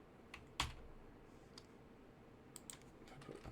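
Light, scattered typing on a computer keyboard, a sharp louder clack early on followed by sparse soft key taps and a small cluster of clicks near the end, all quiet and close with no talking.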